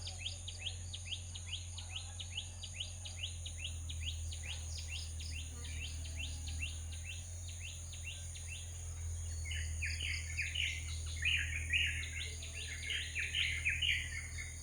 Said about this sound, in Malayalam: കിളികളുടെ സൗണ്ട്